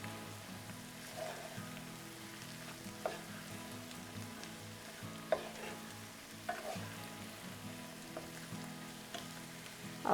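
Mushroom gravy in a pot sizzles quietly and steadily while browning mushrooms are stirred, with soft irregular scrapes and taps of the utensil over a low continuous frying hiss.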